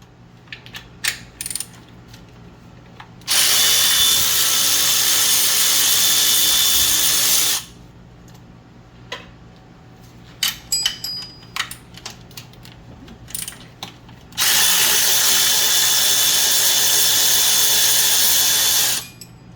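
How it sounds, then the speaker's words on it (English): Two long bursts of a power impact tool or ratchet driving bolts out of a water pump bracket on a Jeep Cherokee XJ, loud and close, with metallic clinks between. "We're going to go ahead and remove these 2 bolts from this bracket here, and then the 4 bolts that hold it on."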